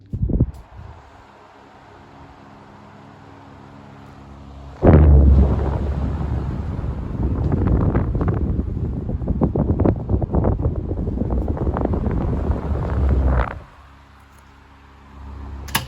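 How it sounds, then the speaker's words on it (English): A 1960s 12-inch desk fan switches on and runs for about eight seconds as a steady, loud, close whooshing rush of air, then cuts back to quiet. "Next up, the 1960s 12-inch test fan."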